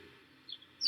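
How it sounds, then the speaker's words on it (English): Birds in a park give a couple of brief, high calls over a faint, steady outdoor background, with a slightly louder call right at the end. "there's so many birds"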